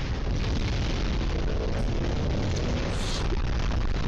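Gunfire in the Skibidi Toilet video game comes as a dense, continuous barrage of loud booming blasts that stays at an even, heavy level throughout with no pauses.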